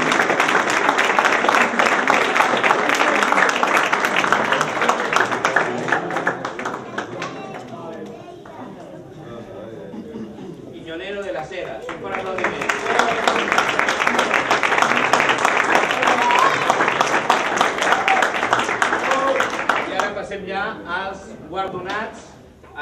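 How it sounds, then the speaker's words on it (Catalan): Audience applause at an outdoor festival prize ceremony, a loud sustained round of clapping that fades briefly mid-way, then swells into a second strong burst before dying away. "Un fort aplaudiment, Irene."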